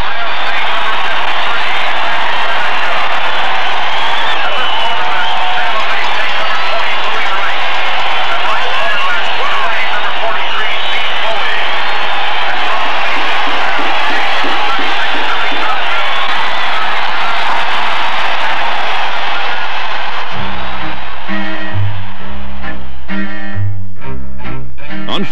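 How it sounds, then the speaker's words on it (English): A capacity stadium crowd roars for the undefeated Denver Broncos at a home game, a dense, sustained wall of cheering that fades into music and a narrating voice toward the end. "another capacity crowd was on hand to welcome home their undefeated team"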